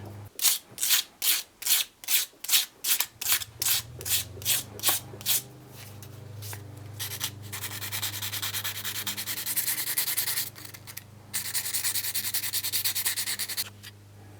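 Sanding the edges of a Damascus steel coffin-handle Bowie knife handle: rapid, evenly spaced hand-sanding strokes at first, then a steady continuous rasping grind with a low hum beneath, close and loud throughout.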